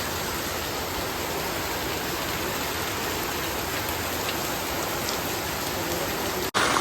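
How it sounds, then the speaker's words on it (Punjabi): Heavy monsoon downpour on a village lane, a dense, steady roar of rain drumming without pause, loud and close, ending in a brief sharp break. "ਚੈੱਕ ਕਰੋ ਮੀ ਕਿੰਨਾ ਤੇਜ਼ ਆ"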